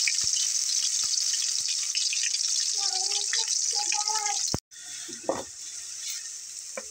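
Steady bright sizzle of onion dropped into hot oil with caramelized sugar, continuous and close, briefly cutting out near the end before the frying hiss resumes under faint background voices.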